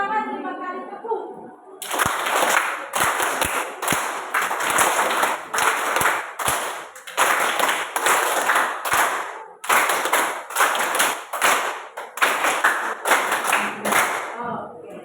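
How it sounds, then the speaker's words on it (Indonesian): A class of students claps hands in counted groups as instructed by a teacher, repeated bursts of sharp synchronized claps separated by brief pauses, with a voice at the start. "Oke, tepuk tangan 5 kali tepuk"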